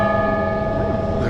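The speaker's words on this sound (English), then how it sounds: "One loud bell clang." A single loud clang from an electronic church bell, heard outdoors on a mountain hike, one ringing strike with a sustained metallic tone that fades over a second or so, with no talk over it.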